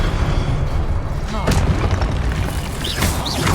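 A fire spell from Hogwarts Legacy bursts with a heavy, booming whoosh over dense in-game rumble and effects, loud and continuous, with a couple of brief higher sparkling tones trailing near the end.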